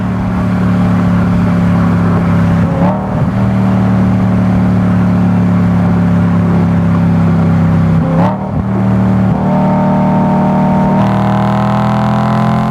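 A BMW E90 M3 with DCT gearbox revving its high-revving engine, a loud, sustained tonal drone that climbs steadily in pitch, with quick dips at gear changes before rising again.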